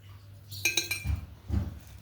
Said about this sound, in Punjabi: ਹੁਣ ਆਪਾਂ ਪਾਵਾਂਗੇ ਇਹਨੂੰ ਮਰਤਮਾਨ ਵਿੱਚ